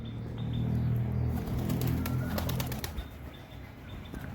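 Domestic desi pigeons coo in low, throaty murmurs in a loft, the cooing swelling close and loud through the first few seconds, with a soft flutter and scattered chirps before it fades.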